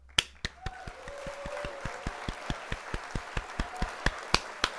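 A canned applause sound effect fires on a model-building livestream, coming through as a sparse, regular series of sharp clap-like hits roughly every quarter second over a faint tonal bed, fairly quiet and with no talking.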